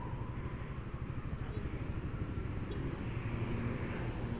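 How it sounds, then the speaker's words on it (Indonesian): A blue-and-white Suzuki GSX-R 150 motorcycle is ridden, its engine a steady droning hum mixed with wind rush, continuous and fairly distant-sounding. "Kali ini gue lagi mau riding naik motor Suzuki GSX gue ya"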